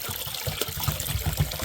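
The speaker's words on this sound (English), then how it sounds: "and yep, water's come out." Water pours and trickles out of a removed appliance pump as it is rotated, spilling into a catch container in a kitchen, a steady close splashing with a few louder gushes.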